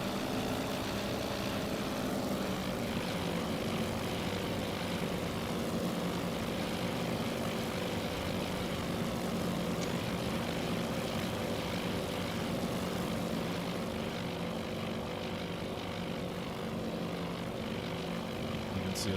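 A propeller aircraft takes off in the naval strategy game Task Force Admiral. A loud, continuous engine drone holds steady for the whole stretch, with no voices over it.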